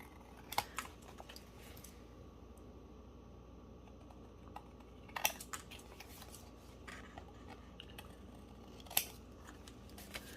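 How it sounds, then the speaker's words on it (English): Scissors snip off excess material in a craft project, a few sharp, quiet cuts spaced several seconds apart over a faint background, with no talk. "let's cut this excess off"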